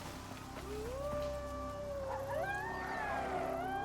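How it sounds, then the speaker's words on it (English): Several long, wavering wolf howls rise and overlap over a low ambient drone, distant and mournful, with pitches sliding up and down, in a conifer forest in the survival game Icarus. "when you hear the howls, it's too late."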